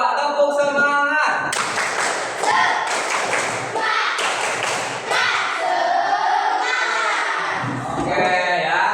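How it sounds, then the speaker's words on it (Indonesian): A classroom of children performs a rhythmic spirit clap, a patterned sequence of sharp claps and thumps in bursts, with young voices chanting and talking between them. "Coba tepuk semangat."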